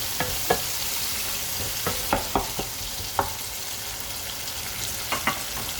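Soft, cooked tomatoes are mashed and stirred in a cooking pot for a monggo dish, with irregular spoon taps and scrapes over a quiet, steady sizzle.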